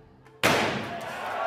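A sledgehammer hits a regular truck door at the Tesla Cybertruck unveiling event, giving one sudden, loud metallic bang that leaves a sustained wash of noise ringing on afterward.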